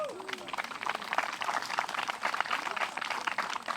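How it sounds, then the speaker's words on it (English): Disc golf gallery at a women's pro final letting out a collective groan of disappointment, a broad crowd murmur swelling and fading across several seconds outdoors at moderate distance. "Collective crowd noises are one of my favorite things"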